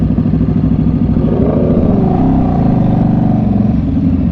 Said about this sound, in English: Hearing all these bikes together though, like the sound of the R1s with this bike sounds nuts.